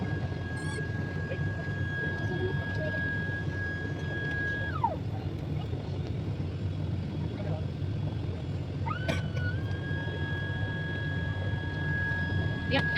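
Steady low roar of an airplane engine inside an IndiGo flight cabin, a constant broadband drone with a cabin chime tone, continuous and close.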